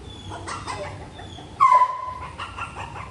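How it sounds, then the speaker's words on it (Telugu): German shepherd puppies whimper and yip close by, soft whines and small barks scattered across the moment, with one louder, drawn-out whine near the middle. "Don't miss this cute puppies and heavy size puppies."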